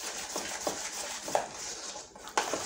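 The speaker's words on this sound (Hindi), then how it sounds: "सभी को मिक्स कर लेंगे अच्छे से।" Kadhi ingredients being mixed in a pot, a few light clinks and taps of a spoon against the vessel, sparse and close, with no voices.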